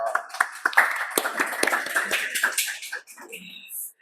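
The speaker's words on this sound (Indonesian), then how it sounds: "Kasih tepuk tangan dong." Audience clapping in welcome of a guest speaker at an Islamic talk about Lailatul Qadar, scattered sharp claps from a small group, uneven and fading out after a few seconds into quieter room sound.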